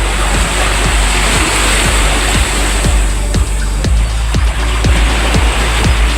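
Steady, loud roar of sea surf with a constant wash of water noise and repeated low thumps beneath it.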